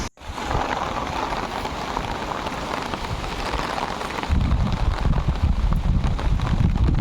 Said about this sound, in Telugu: ఈలోపు వర్షం కూడా స్టార్ట్ అయిపోయింది.